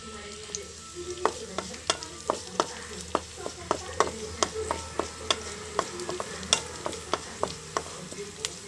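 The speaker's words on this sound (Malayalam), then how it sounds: "കടുക് വറുക്കുന്നുണ്ട്." Mustard seeds fry in hot oil in a pan for a fish curry, with a steady sizzle broken by sharp, regular pops and crackles at close range.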